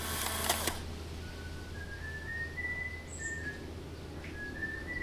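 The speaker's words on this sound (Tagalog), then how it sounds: "Tao ba yun? Sumisipol?" A person whistles a few thin, rising tones outdoors in Coron, faint and somewhat distant, following a brief loud burst at the start, with steady background ambience throughout.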